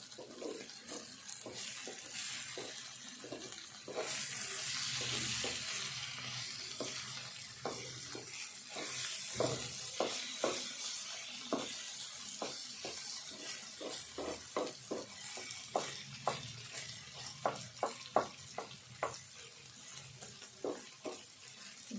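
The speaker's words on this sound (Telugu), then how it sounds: "అంతా ఒకసారి మంచిగా కలుపుకొని" Cauliflower curry being stirred and fried in a pan, with repeated scraping strokes of a spoon against the pan in a steady rhythm over a continuous sizzle, plus a couple of louder hissing bursts from the hot pan.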